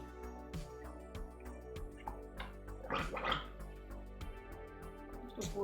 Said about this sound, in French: Tu veux-tu te gargariser? Ouais. Un petit gorgée.